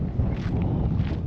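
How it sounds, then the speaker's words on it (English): Strong wind at a high point near Copper Bottom Pass rumbles and gusts against the microphone in a dense, low buffeting roar, steady and close with no talking. "Pretty windy."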